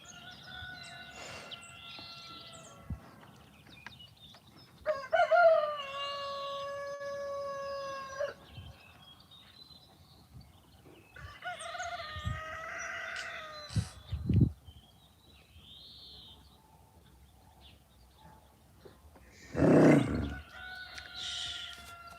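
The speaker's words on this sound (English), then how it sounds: "That's a tui." Tui song in a quiet natural setting: several separate phrases of clear, ringing whistles and warbled notes with a few rough, harsh bursts, near and moderately loud, spaced by still pauses with no talk.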